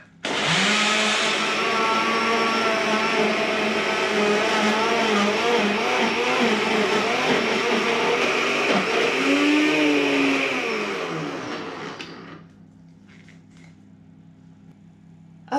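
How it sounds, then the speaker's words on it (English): A blender purees cooked greens with wine, a loud steady motor whir with shifting pitch under the churning load for about twelve seconds, then it cuts off and leaves a quiet room. "As there's too much to go in a single batch, I'm pureeing it in stages"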